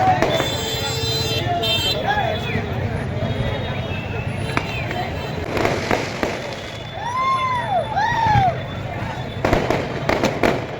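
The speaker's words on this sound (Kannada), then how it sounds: "ಪಟಾಕಿಗಳ ಅಬ್ಬರ" Sharp bursts of firecrackers pop amid a noisy outdoor crowd at a Ganesha immersion procession on a main bazaar road in Hospete, with whistles, horns and voices layered over a constant rumble.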